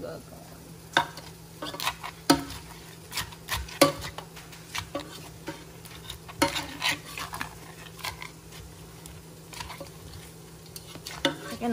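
Crab and papaya salad is mashed and stirred in a large pot, giving irregular wet clacks and scraping knocks that come in uneven bursts with a faint hum behind.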